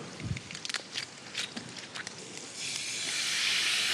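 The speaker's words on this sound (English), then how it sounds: "So we just deglaze that, lifting up all those beautiful little sediments" White wine hits a hot pan with garlic, rosemary and thyme, building from scattered crackles and pops into a rising, loud steady sizzle and hiss.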